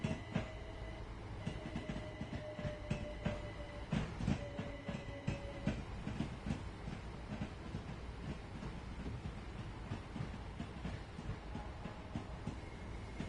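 A Gatwick Express train runs in Train Sim World 2 on the London Commuter route, giving a steady close rumble with repeated clickety-clack wheel beats and faint hiss throughout, with no voices.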